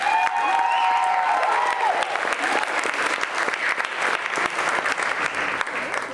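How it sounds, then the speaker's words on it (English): A crowd at a drag show applauding loudly and steadily, dense clapping sustained throughout with a few cheers near the start. "let's give him a big round of applause."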